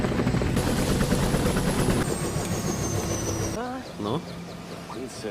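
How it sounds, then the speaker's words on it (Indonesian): A helicopter flies close and loud over a jungle area in West Papua, its steady engine and rotor roar filling the clip before easing slightly toward the end. "mereka menumpang helikopter untuk menempuh jarak 100 km menuju pedalaman hutan Papua Barat"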